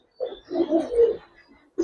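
Pigeons coo softly and nearby in a few short throaty bursts, pausing between calls, then starting again at the end.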